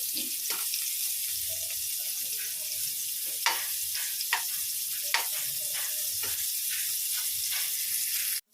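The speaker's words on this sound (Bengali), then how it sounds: "কপিটা ভালো করে ভেজে নিলাম" Cauliflower and potatoes fry in a pan with a steady, hissing sizzle, quiet and continuous, broken by a few faint clinks and scrapes of stirring.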